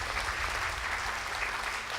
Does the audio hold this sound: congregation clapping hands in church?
yes